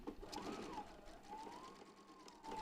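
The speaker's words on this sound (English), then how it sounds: "So I am just going to stitch." A sewing machine top-stitches pillow backing pieces in a steady, continuous whir with a faint rising and falling tone, close and fairly quiet, with no talking.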